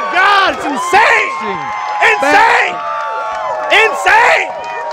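A wrestling crowd in Brussels roars and cheers in repeated loud bursts of whoops and shouting, dense and close, with a few claps mixed in.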